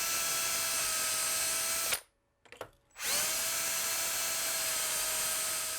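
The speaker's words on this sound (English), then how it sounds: "We're going to be drilling 8 holes for the toe piece and the heel piece" A power drill bores mounting holes for bindings into a ski, a loud steady high whine that cuts out briefly mid-clip with a few sputters, then spins back up and runs on.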